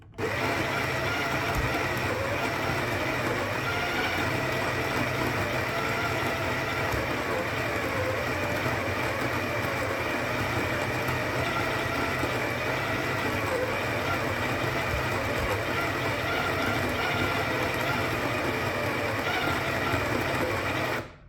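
A Breville Smart Grinder Pro grinds coffee beans in a steady, loud motor whir that runs unbroken for about twenty seconds, then cuts off abruptly.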